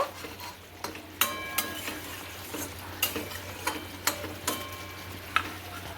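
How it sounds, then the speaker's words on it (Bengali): Doi katla, pieces of fish in a yogurt curry, gets stirred in a pan, each pass bringing a clear scrape or clink of the spatula over a low steady simmer, close up and with no voices. "এবার হালকা করে নেড়ে দিচ্ছি"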